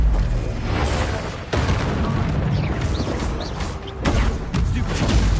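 Confringo blasting spell explosions in the game Hogwarts Legacy, with loud booming bursts at about 1.5 and 4 seconds over a dense, continuous rumble of battle effects and other spell sounds.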